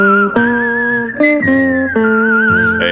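A whistled melody from the Tombstone Territory Western theme song, clear and close, moving through a series of sustained notes with smooth pitch changes and short breaks between phrases.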